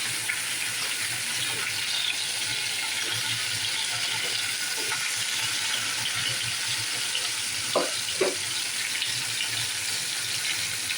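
Mango pieces for a sweet pickle fry lightly in an overfull pan, giving a steady, soft hiss of frying that runs throughout, with a couple of brief utensil clicks near the end.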